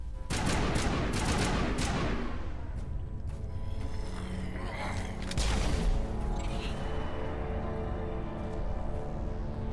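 Rifle fire in the Mass Effect 1 video game, a dense barrage of rapid shots layered with booms and battle noise, loud and continuous throughout.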